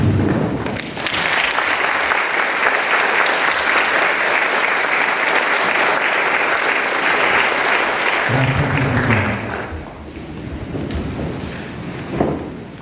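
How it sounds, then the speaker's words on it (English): Sustained applause from a large crowd at a school valedictory ceremony, dense and loud for several seconds, then fading out while a voice speaks briefly near the end. "give a round of applause to the teachers as well as your parents"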